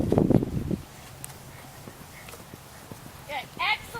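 Hooves of a ridden horse turning during a riding lesson, a few soft muffled footfalls after a burst of close, loud speech, with faint clip-clop steps under quiet background.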